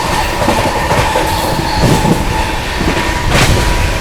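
A Shiv Ganga Express train running at speed as the Magadh Express passes alongside, a loud steady roar of wheels and rushing air with rhythmic rail clatter, close and continuous.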